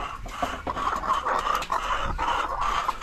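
Laying hens cluck and murmur close by in a busy, continuous chorus of short, overlapping calls.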